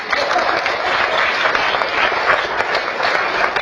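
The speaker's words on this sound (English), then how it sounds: "oh, we should clap you" Parents in an audience at a school orientation clap together, a dense, even burst of applause that holds steady and close for a few seconds with no talk over it.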